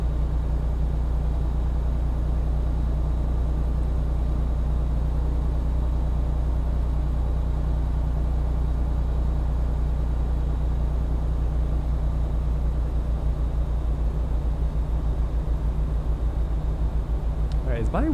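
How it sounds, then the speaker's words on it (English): Steady low drone of a truck engine heard from inside the cab while driving, a constant rumble filling the whole stretch with no talk over it. "is this truck just really noisy? Y'all hear that? I can like really hear the engine in this one."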